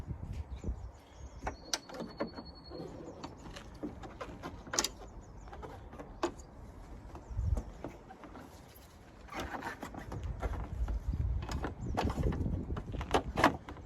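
Plastic sliders being pushed back onto a Volvo V70 headlight unit, a run of short scattered clicks, snaps and scraping rubs close by, with denser handling noise toward the end.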